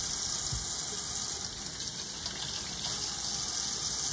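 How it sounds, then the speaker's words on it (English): Tap water runs in a steady, continuous gush while vegetables are rinsed outdoors before peeling potatoes, a loud hiss of flowing water throughout with no talk. "First, we're gonna wash our vegetables."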